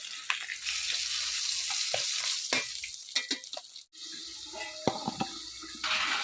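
Fish frying in hot oil, a loud continuous sizzle broken by sharp pops and spattering bursts, with spatula scrapes and brief clatters close by; a moment of near-quiet midway before the frying resumes.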